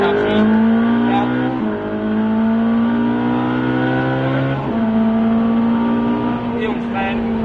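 Race car accelerating on the Albi circuit, a loud in-car engine drone climbing steadily in pitch through the gears, with brief dips at each shift and an instructor's voice faint beneath.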